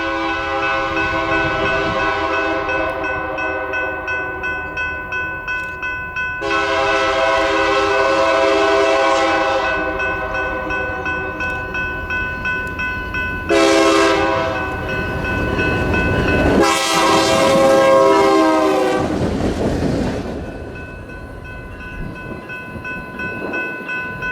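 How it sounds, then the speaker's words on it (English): A light pair of BNSF GP39 locomotives on a northbound turn job passes close by, with steady loud engine drone, a long multi-tone horn sounding in several blasts, and rumbling wheels as they go by. "Today's northbound run is a light pair of GP39s."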